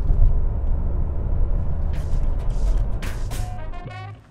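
A Mazda CX-30 brakes hard, heavy road rumble and tyre noise dropping off as the car slows sharply, ending with a short squeal as it comes to a halt.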